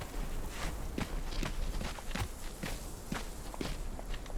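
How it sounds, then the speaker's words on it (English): Rhythmic footsteps in the video game Conan Exiles, a steady run of evenly spaced steps over a constant ambient bed, no voices. "The footsteps, they all sound like they're chasing me."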